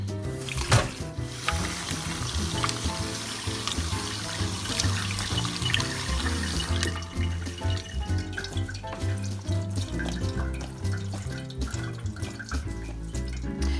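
Tap water runs steadily and loudly over strained cheese curds being rinsed while making farmers cheese, with splashing and dribbling from a sink throughout.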